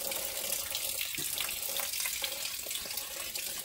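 Water draining from the radiator tap of a tractor being stored for winter, a steady hissing, splashing stream that runs without a break, close by.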